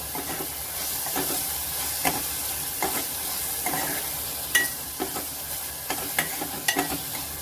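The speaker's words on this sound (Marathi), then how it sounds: "मस्त आपला लसणी तडका द्यायचा आहे" Garlic tadka for green moong dal sizzles steadily in hot oil, a dense bright hiss broken by irregular sharp clicks and scrapes of stirring, close and fairly loud with no voices.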